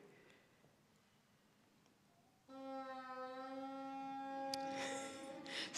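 A bassoon reed fitted onto its bocal gives a longer, somewhat lower buzzing tone, starting abruptly after a quiet moment and sustaining with bright overtones, near and alone.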